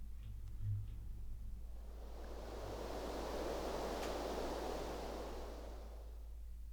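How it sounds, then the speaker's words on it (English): A synthesized white and pink noise signal swells in as a broad, soft hiss that builds and holds, with a low steady hum underneath and no voices. "I've also patched in here some white noise,"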